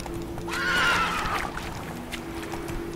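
In the Witcher 3 video game, a horse gives one loud whinny that rises and then trails off, with soft hoofbeats and ambient game sound around it.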